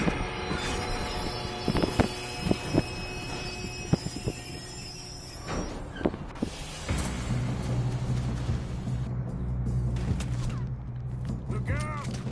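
A train runs on rails in the video game Red Dead Redemption 2, a steady rumbling wheel roar with clanks and occasional squeals, dense and continuous, mixed with gunfire-like bangs and game effects.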